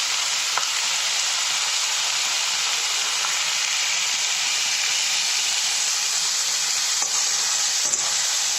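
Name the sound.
cauliflower, potato and peas sizzling in a pan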